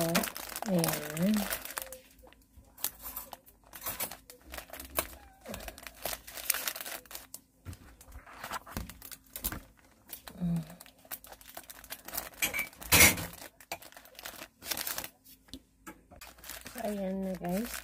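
Plastic cling wrap crinkles and crackles in close, irregular bursts as it is wrapped and taped around a Korean-style sandwich, with a person talking intermittently throughout.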